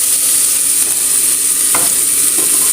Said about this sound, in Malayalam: ഇനി നമ്മൾ അരിഞ്ഞു വെച്ച വെജിറ്റബിൾ ഇട്ട് കൊടുക്കാം